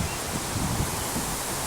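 Steady, broad wind noise buffeting outdoors, a continuous low rumble with a rushing hiss on top, fairly loud and unbroken throughout.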